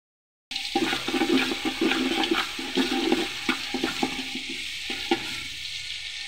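Onions fry with bay leaf and cinnamon in a pot, a steady hiss of hot oil broken by soft clicks and scrapes of stirring, close and moderately quiet, with no voices.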